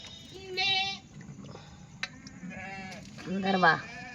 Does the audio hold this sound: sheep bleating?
yes